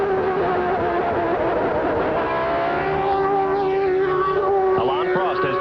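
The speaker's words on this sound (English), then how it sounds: "Listen to that engine as he whistles down into that turn one." A 1989 Formula 1 car at the Japanese Grand Prix screams at high revs, its whining engine note holding and then dropping in pitch as it brakes into a turn, loud and continuous.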